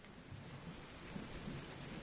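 Rain and rumbling thunder from the Kuukiyomi video game play as a faint, steady wash of falling rain with low rolling rumbles underneath.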